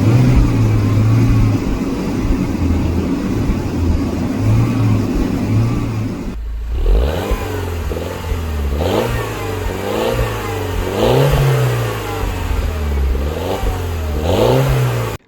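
Car engine running steadily while a head gasket tester checks the coolant, loud and close, with a constant drone and then repeated revs rising and falling in a regular rhythm.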